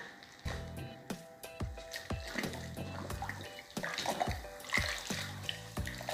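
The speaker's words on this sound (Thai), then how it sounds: "หลังจากซักจนสะอาดแล้วนะคะก็ให้นำไปล้างนะคะ" Running tap water splashes and gurgles over washed white shoes being rinsed of soap, close and continuous with irregular sloshing and handling sounds.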